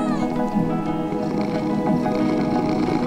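A cat in the Minecraft video game meows in repeated, sweeping calls, loud and close, over a continuous backdrop of game sound.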